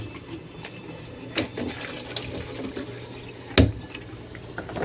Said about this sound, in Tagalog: Pumasok pa rin yung tubig.